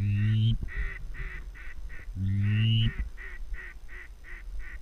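Ducks calling around a mud blind during a hunt, two loud bursts of dense low honking quacks at the start and middle, with repeated shorter calls between them and a few bright higher notes.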